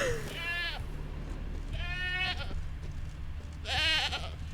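A goat tied to a stake as monster bait in The Witcher 3 bleats three times at spaced intervals, each call a wavering nasal cry over a low steady game-world hum.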